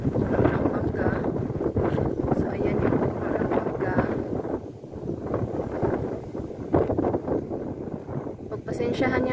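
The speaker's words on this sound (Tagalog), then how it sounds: "Pasensyahan nyo na guys dahil malakas talaga yung hangin." Strong wind from an approaching typhoon buffets the microphone outdoors near a river and trees in the Philippines, making loud, continuous rumbling gusts while someone talks.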